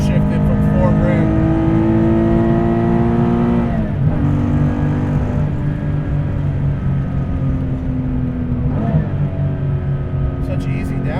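Guntherwerks 400R Porsche engine revving hard on downshifts, several sharp blips rising and falling over a sustained close-up drone, with faint voice underneath.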